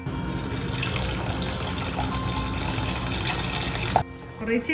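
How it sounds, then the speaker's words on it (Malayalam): Milk pouring into a pan of semiya payasam, an Onam sadhya-style vermicelli milk pudding, as a steady liquid stream for about four seconds before stopping; a faint clink and soft movement follow near the end. "ഇനി കുറച്ചുകൂടി പാൽ ഒഴിച്ചു കൊടുക്കാം"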